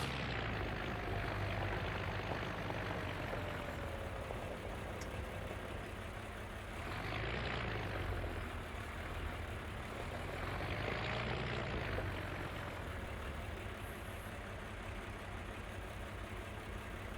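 Low, steady engine drone of a video game tractor pulling a cultivator, rumbling continuously with two broad swells in level partway through, moderately loud with no talking.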